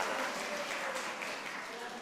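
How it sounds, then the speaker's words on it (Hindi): Dense, continuous applause from a crowd at a live yoga gathering, a steady wash of many hands clapping that stays at an even level throughout. "ताली बजाओ भाई इसके लिए"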